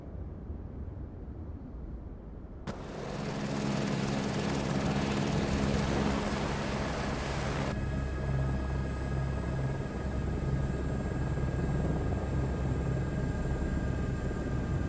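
An Airbus H125 helicopter in Microsoft Flight Simulator 2024: a quiet idle jumps into a loud, steady turbine whine with rotor chop and several sustained tones, then settles into a continuous heavy drone with no talking.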